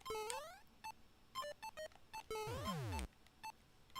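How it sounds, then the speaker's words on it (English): Electronic beeps from a Game & Watch style recreation built in Super Mario Maker 2: bright, clipped tones in quick irregular bursts, with two longer pitch sweeps near the middle of the sequence, loud and alone without talk. "It's just like the beeping sounds that you would hear when playing a gaming watch."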